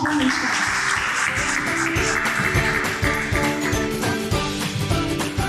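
An audience applauds a contestant at a French-teachers' eloquence contest, steady dense clapping filling the hall throughout, with some music or tonal sound running underneath.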